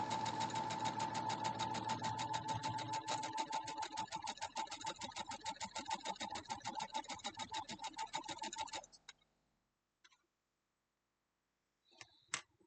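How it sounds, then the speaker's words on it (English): Sewing machine stitching pieces of a Harry Potter quilt block, running in a steady fast whir of rapid needle strokes for about nine seconds before stopping, followed by a few faint handling clicks. "So we're just going to line it up and then sew right down through."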